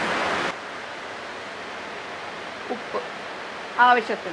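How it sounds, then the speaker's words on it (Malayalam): Heavy rain falls outside a home kitchen where biryani is being cooked, making a steady, even hiss throughout, while a voice speaks briefly near the end. "പുറത്ത് നല്ല മഴ പെയ്യാൻ ശബ്ദം കേൾക്കുന്നില്ലേ?"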